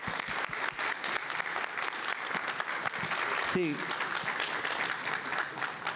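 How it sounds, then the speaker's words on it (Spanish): Audience applause fills the room at a steady, dense level, continuous clapping from a sizeable crowd with a brief spoken word heard over it. "aprovechamos el aplauso para seguir aplaudiendo"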